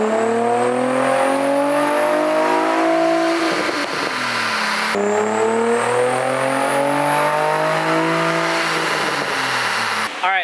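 A Nissan 350Z engine on a dyno screams through two sustained pulls, pitch climbing steadily and loudly with a brief drop between them, ending with a cut-off near the end.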